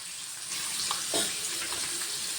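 Salted potatoes frying in a pan until browned, giving a steady, close, fairly loud hissing sizzle that holds without a break.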